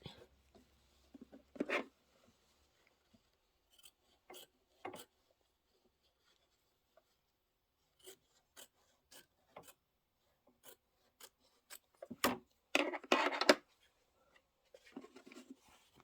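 Fabric being trimmed with scissors for a Kimberbell Halloween broom pillow, giving sparse, quiet snips and rasping cuts spread across the stretch, with a denser burst of cutting near the end.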